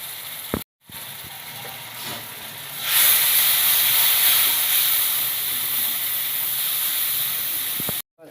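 Spice paste for a native koi fish curry frying hard in hot oil, a loud continuous close sizzle and hiss that swells sharply partway through, with brief dropouts at the start and end and no talking.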